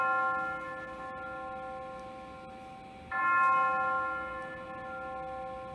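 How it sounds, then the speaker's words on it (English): A single bell tolls with a sustained, ringing hum, struck again partway through and swelling briefly louder, heard during an outdoor Shakespeare performance of Macbeth at night. "The bell invites me."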